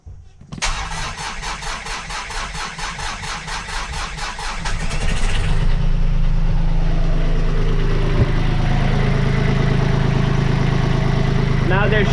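A sailboat's inboard engine cranks with a rapid rhythmic churn, catches and settles into a loud, steady running rumble close by.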